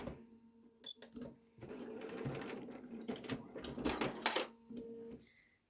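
A sewing machine whirs in uneven bursts while stitching down the raw fabric edge of a face mask with a filter slot, starting and stopping several times, close but fairly quiet.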